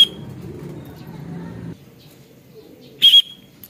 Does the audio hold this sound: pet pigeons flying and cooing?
yes